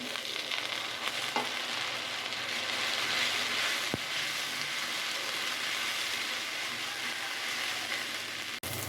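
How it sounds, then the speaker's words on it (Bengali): Leafy greens frying with boiled ginger and garlic give off a continuous, even sizzle and hiss, moderately soft, with one small click partway through. "শাকভাজি বসিয়ে দিয়েছি সেদ্ধ আদা রসুন"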